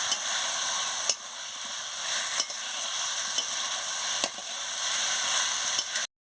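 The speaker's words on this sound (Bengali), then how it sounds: "মশলার সঙ্গে কষিয়ে নিচ্ছি" Steady sizzling of food frying with spices in a pan, with intermittent scraping stir strokes of the spatula every second or so, loud and close throughout before cutting off at the end.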